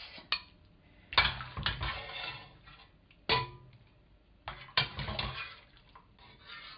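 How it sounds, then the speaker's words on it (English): Cooked onions and carrots lifted out of a soup pot, with several sharp clanks and scrapes of a utensil against metal and brief splashy clatter, close and alone. "now I will take out as well the onions and the carrots"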